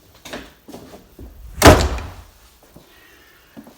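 A kitchen door in a house with an Aga and boiler is handled, giving soft knocks and rattles that build to one firm thud or slam near the middle, followed by faint creaks and quiet settling sounds.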